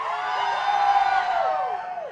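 A live audience at an open stage show screams and cheers loudly during a sound check, a sustained crowd roar with whoops rising through the middle and fading slightly at the end.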